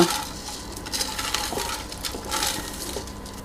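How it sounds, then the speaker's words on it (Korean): A teaspoon stirs salt into a bowl of water while preparing sweet rice with chestnuts, giving light repeated clinks and scraping swishes, close and fairly loud, with no voices. "물에서 이렇게 저어주세요"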